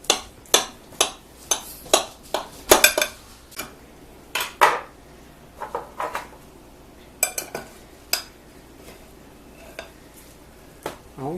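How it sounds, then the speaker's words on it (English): Utensils clink and scrape against dishes in a rapid series of sharp knocks while cabbage and beans are served onto a plate, then a pause and more scattered taps. "Dish up Papa a plate"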